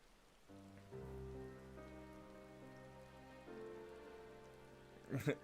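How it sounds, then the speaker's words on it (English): Rain falls in the video game Final Fantasy XIV, a soft steady patter running throughout beneath layered game music, with a brief louder rustle near the end. "Why is it freaking raining again?"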